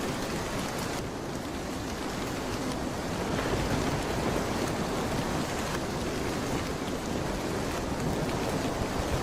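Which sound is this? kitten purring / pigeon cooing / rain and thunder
rain and thunder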